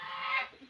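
A goose lets out a short, harsh honk that swells and fades in under a second, close and fairly faint, with no voices.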